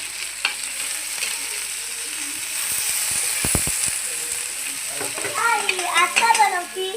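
Vegetable oil sizzles steadily in a pan as matar, cauliflower and potato sabji begins to fry, a constant hiss under a few sharp clicks, with voices chatting near the end.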